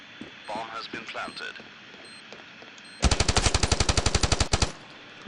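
Automatic gunfire in the mobile shooter Standoff 2, a loud rapid burst of about twenty evenly spaced shots lasting under two seconds, preceded by quieter game effects and clatter.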